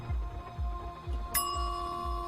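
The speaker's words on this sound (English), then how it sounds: "That's a bell." A bicycle bell gives one bright ding that rings on and slowly fades. A steady, rhythmic low thumping plays underneath.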